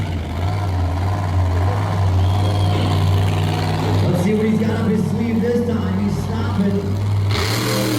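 A monster truck engine at a Middletown, New York motorsports event rumbles with a deep, steady drone and surges in revs during a nose wheelie attempt, with a commentator talking throughout.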